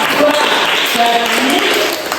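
Steady applause from students in a classroom for a group, loud and continuous throughout with a busy, close-up texture.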